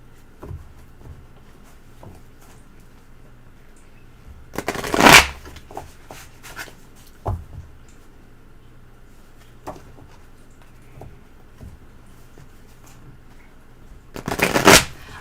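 A deck of tarot cards is shuffled in two quick riffling bursts about ten seconds apart, with faint small handling sounds in the quiet between them.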